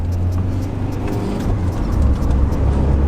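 A Ford Transit van is driven fast around the Nurburgring, its engine droning loudly and steadily from inside the cabin, rising slightly toward the end.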